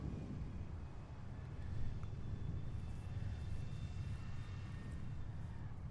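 Southwest Boeing 737-800 jet arriving at Seattle airport, a steady low distant engine roar and rumble with wind noise, fairly faint and constant throughout.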